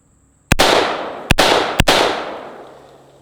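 Palmetto State Armory AR-15 rifle firing three loud, sharp gunshots close by, each followed by a ringing outdoor echo that fades slowly.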